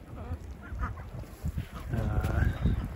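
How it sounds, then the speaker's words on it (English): Ducks at a backyard pond during a snowstorm, giving scattered nearby honks and quacks over a soft outdoor background. "Hanging out with the ducks."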